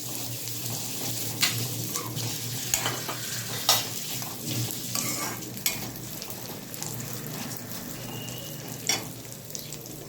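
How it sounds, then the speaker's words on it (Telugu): Toor dal roasting in a hot pan for kandi chutney gives a steady dry crackle, with scraping clicks and knocks from stirring scattered throughout and no talking. "ఇది కొంచెం చిన్న రంగు మారినంత వరకు మనం ఫ్రై చేసుకోవాలి."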